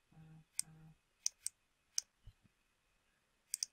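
A computer mouse clicks sharply and sparsely while a page is edited in a web sales-funnel builder, with single and paired clicks spread out over a quiet background, close and fairly faint.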